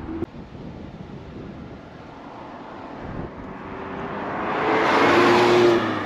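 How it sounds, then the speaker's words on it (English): Road traffic on an open road, with a car swelling closer and rushing past in a loud, windy whoosh over a low steady road rumble, no voices. "Well, apart from this traffic."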